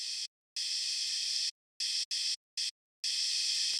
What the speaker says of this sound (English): It's basically white noise.